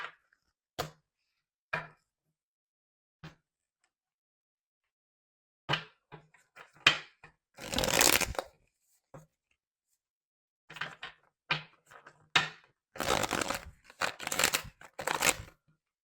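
Tarot cards being shuffled by hand, with isolated sharp taps and flicks, then several longer riffling bursts of dense papery rustle, close and moderately loud, separated by silent pauses and with no voices.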